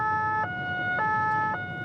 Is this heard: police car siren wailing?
yes